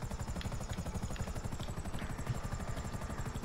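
Helicopter in GTA 5 Online: a close, loud, steady rotor chop with rapid even thumps and a whining engine tone throughout, no talk.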